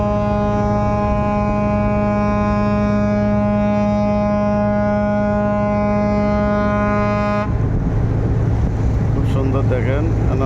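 A container ship passing on open water gives a loud, steady tonal drone for about seven seconds, then gives way to a rougher broadband wash of water and wind.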